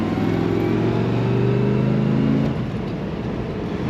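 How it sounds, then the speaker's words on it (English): A 1970 Chevrolet Chevelle SS convertible with an LS5 engine and manual transmission driving, steady engine drone with rising harmonic tones that drop off after a gear change, close and loud with no talk. "You can hear that manual transmission, the way the old trans used to sound. A little bit of a whine lets you know it's a manual."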